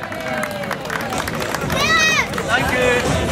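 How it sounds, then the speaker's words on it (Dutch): A crowd claps for the winner of the Masters C class at an amateurs and masters event, with dense, steady applause running under an announcer's amplified voice. "Een applausje graag voor de winnaar bij die Masters C."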